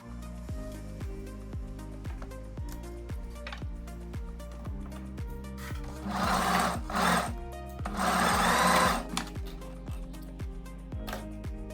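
A sewing machine stitches the center front seam of fabric for a backless summer dress, a steady rapid mechanical chatter with a regular rhythm, close and continuous, with two brief louder surges midway.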